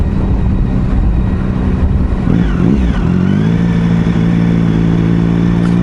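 Motorcycle engine heard while riding on a road commute, a loud continuous drone with a rising and settling pitch as the rider shifts gears, steady throughout with no talk.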